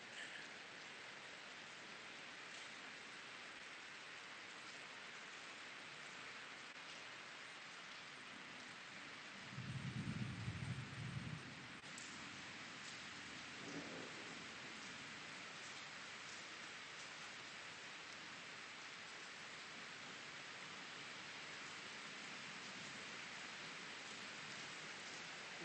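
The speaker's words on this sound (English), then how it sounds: "Rain is relaxing, yes." Steady rain pours outside at night during a windy overnight security watch, a dense continuous hiss with a brief low rumble of thunder partway through.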